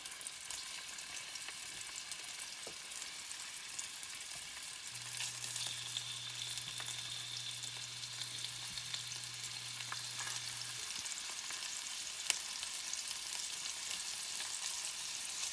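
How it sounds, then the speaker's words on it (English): Quiet, steady sizzling of beef browning in a pan, a soft continuous crackle with faint occasional pops, no voices. "Just frying this ahead of time and getting it a good charcoal brown"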